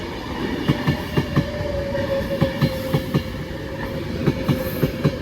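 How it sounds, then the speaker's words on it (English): A Class 390 train pulls into Wigan North Western station with steady rolling rumble, a sustained tonal whine and rhythmic clickety-clack wheel beats over rail joints, fairly close and loud, no voices. "Alright, we got 2 trains coming in. We got a 390."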